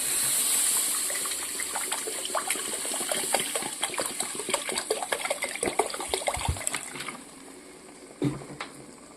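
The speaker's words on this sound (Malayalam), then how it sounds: "ഇനി നമുക്ക് വെള്ളം ഒഴിക്കാം" Water is poured into a pan of Kottayam-style fish curry, a close gushing splash that breaks into uneven trickles and splatters before tapering off near the end.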